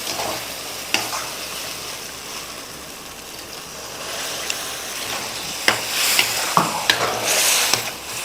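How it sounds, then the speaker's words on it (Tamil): Masala and vegetables stirred and fried in a pan for a kara kuzhambu, with a soft continuous sizzle and sharp scraping clicks of the spoon in the later seconds. "இந்த மசாலாவை நல்லா இப்படி காய்கறியோட ஒரு பரட்டிட்டு சும்மா 1 நிமிஷம் பரட்டினா போதும்"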